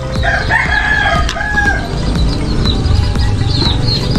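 Pet chickens gather at morning feeding time while a rooster crows loudly and hens cluck and chirp in a busy, continuous farmyard chorus.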